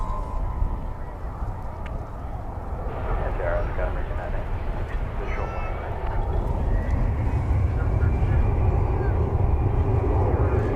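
A 28-year-old airliner arriving from Ontario, California rumbles in with a steady, gradually swelling jet roar at a distance, a voice talking over it throughout.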